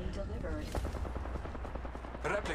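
Gunshots from an online video game crackle in a quick cluster of sharp reports over a low rumble, fairly quiet, with a voice faintly present underneath.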